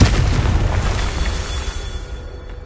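Confringo fire spell explosion in a Hogwarts video game: a loud, deep blast hits at once and then rumbles off into a decaying roar over about two seconds, with no voices.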